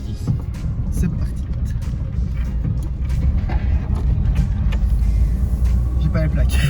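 A 1989 Citroën AX pulling away in first gear, its engine a steady loud rumble from inside the car, with no one talking.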